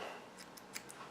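Sharp scissors snip fly-tying material on an articulated streamer fly, four quick, quiet close-up cuts in a row over a faint room hush.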